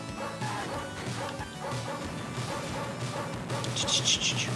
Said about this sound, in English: I keep hearing a dog bark